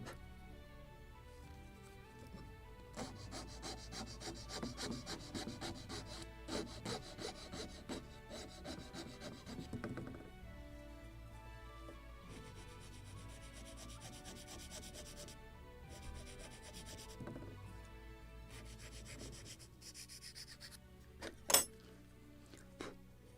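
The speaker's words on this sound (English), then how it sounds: "I need to sand this plank upper part" A sand block rubs back and forth on a wooden model plank for a 1776 gunboat Philadelphia kit, giving long stretches of faint, steady scraping strokes with brief pauses and one sharp knock near the end.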